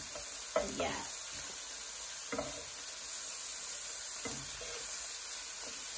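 Shrimp fry in a pot with a constant bright sizzle and hiss, broken by a few stirring scrapes, and one brief word is spoken.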